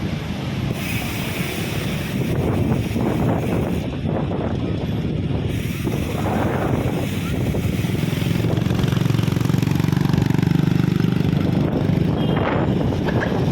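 Steady wind roars across a microphone while riding along Roxas Boulevard by the bay, a constant loud rushing with low rumble and no pauses.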